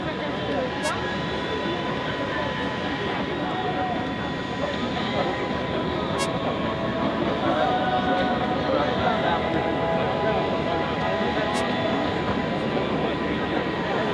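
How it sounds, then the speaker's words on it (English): A Eurofighter Typhoon jet descends slowly on its landing approach at an air show, giving a steady, broad roar at moderate distance throughout with no distinct peaks. "It's quite strange to see the Typhoon going down at this low speed value after incredible aerobatics and idle position"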